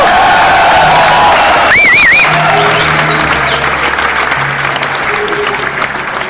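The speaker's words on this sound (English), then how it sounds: "save your applause for the names of the individuals that are no longer with us" A crowd at a live funk concert in Paradiso, Amsterdam, applauds and cheers loudly, with whoops and a brief whistle early on and the clapping easing slightly toward the end.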